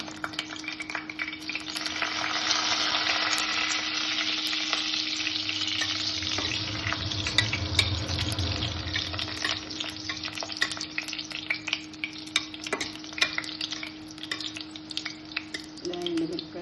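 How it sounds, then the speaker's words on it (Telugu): Fenugreek seeds and dried red chillies frying in hot oil in a pan for a tomato garlic chutney, a continuous close crackling sizzle with scattered pops and occasional stirring, a low hum underneath. "ఇలాగ మెంతులు ఎర్రగా వేయించాక ఎండుమిరపకాయలు వేసుకుందాం"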